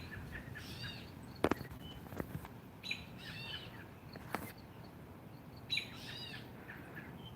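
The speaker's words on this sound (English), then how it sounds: "he does have babies because I hear them chirping nearby" Faint, high chirps of bird chicks come in scattered short bursts over a quiet outdoor background, calling from nearby.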